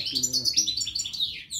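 Goldfinch chicks being syringe-fed inside a cage give rapid, high-pitched chirps and cheeps close by, with a few quick repeated bursts and no talking.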